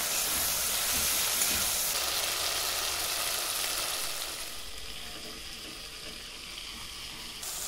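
Spice masala with chilli powder and meat masala hisses and sizzles loudly in a hot pan as a little water goes in, a dense steady fizz that eases to a softer simmering hiss halfway through.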